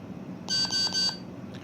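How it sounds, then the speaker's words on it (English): Three short, bright electronic beeps in quick succession come from an RGB lightsaber hilt as its button is held to cycle colors, fairly clear over faint room noise. "So let me just hold this down, hear the couple of beeps,"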